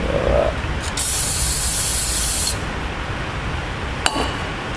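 A Bobcat 331 pump part is blasted with a steady hissing spray lasting about a second and a half, then a short second burst, close and loud over a constant background rumble of a storm outside.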